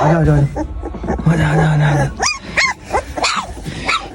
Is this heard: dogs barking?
yes